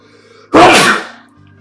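A single loud, abrupt sneeze bursting out of near silence and fading over about half a second, with faint room tone around it.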